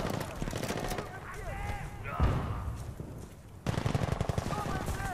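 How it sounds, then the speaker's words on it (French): Rapid automatic gunfire in Battlefield Bad Company 2, bursts of machine-gun fire in a steady stuttering rhythm, a lull in the middle before a loud renewed volley, with speech partly overlapping. "Attendez, mais ça canarde par où?"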